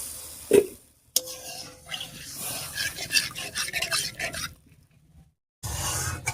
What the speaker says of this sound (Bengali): জল দিয়ে নাড়িয়ে নিয়েছি